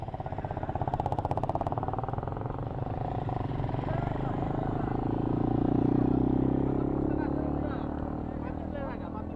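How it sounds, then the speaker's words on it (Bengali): A motorcycle engine being ridden for stoppie and wheelie stunt attempts runs close and loud with a steady throbbing idle, then swells into a rising rev before settling back, as people talk nearby. "এবারে স্টার্ট বন্ধ হয়ে যায়, রেস বাড়ালো।"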